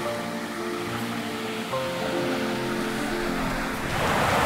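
Ocean surf washing steadily onto the shore at sunset, a continuous broad rush of breaking waves that swells louder toward the end, with no voices.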